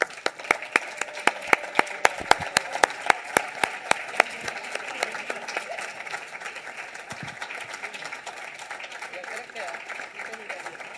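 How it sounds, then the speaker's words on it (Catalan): An audience at the annual ordinary assembly of the ACEPF association claps, with sharp, scattered claps strongest in the opening seconds, then thinning into a lighter, steadier patter of applause. "Un aplaudiment."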